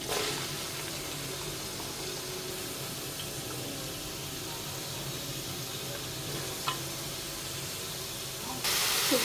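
Vegetables tipped one by one into a hot pan for an evening snack, giving a steady close sizzle and frying hiss that holds throughout, with a few faint clinks and a brighter burst of hiss near the end.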